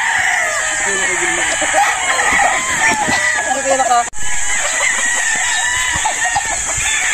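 Battle stags at a gamefowl farm crow and cluck repeatedly, several birds close by, with people talking over them throughout.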